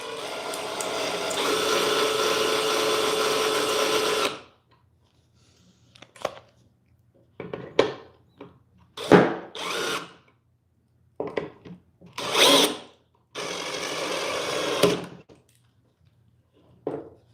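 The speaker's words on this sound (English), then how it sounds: "You can hear the wood splitting." Wood splitting under a drill in a workshop: a sustained grinding drill run opens, then a series of short, sharp cracking and creaking bursts, followed by another steady drilling stretch, all close and with no talk.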